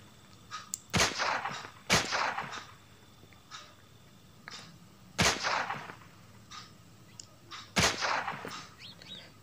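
Gunfire in the Lonewolf video game rings out as single sharp, loud shots spaced a few seconds apart, each followed by a brief echoing tail. Faint ambient sounds fill the gaps between them.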